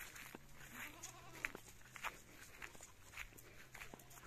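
Goats penned on a countryside smallholding give faint, scattered bleats amid soft shuffling footsteps and light background rustle, all heard quietly from a little distance.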